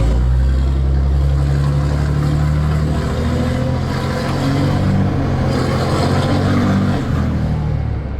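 Cummins diesel truck engine fitted with a 5-inch exhaust idling loud and close, a deep steady low rumble with a slight swell and a brief rev near the end, no talking.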